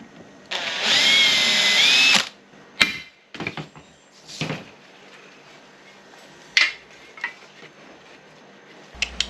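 Power drill boring through aluminium for a DIY Starlink mount: one loud, close burst of high whine for about a second and a half, followed by scattered clicks, knocks and handling of tools and metal.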